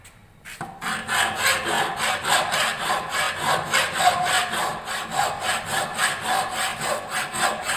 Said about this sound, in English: we are filing the edge of the workpieces like this. So this is a cross filing process.